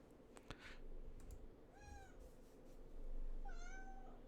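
Several cats share a room, and one gives two clear rising-then-falling meows in the second half. Earlier there are a few sharp clicks and taps against quiet indoor background noise.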